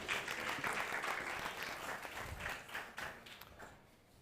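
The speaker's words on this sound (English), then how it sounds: "let's give them a big round of applause" Faint audience applause greets guests joining a political panel discussion, a soft, steady patter of many hands that thins out toward the end, heard from a distance.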